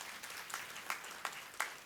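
Faint audience applause at a Hindu cultural gathering, a few soft scattered bursts of clapping rather than a sustained ovation, quiet and somewhat distant with no talking over it.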